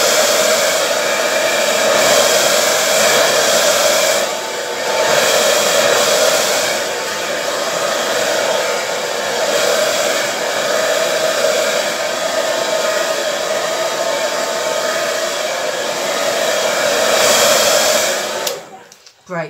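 A hair dryer blows steadily at close range over wet acrylic pour paint for most of the clip, with a brief dip in level, then cuts off abruptly at the end.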